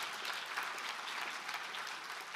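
Audience applause rolls on as a soft, steady wash of many hands clapping, distant and faint, without speech.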